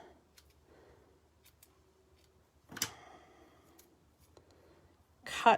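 Scissors cut through ribbon in a quiet room, two crisp snipping bursts a few seconds apart, close, with faint handling sounds between.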